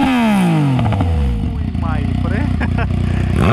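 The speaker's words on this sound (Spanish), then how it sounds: "Encendé la moto y la enciende y de una le da candela a eso" A Yamaha MT-09 SP motorcycle engine fires up and revs loudly up close, rising and falling in pitch with a rapid rumbling idle between blips, while people talk over it.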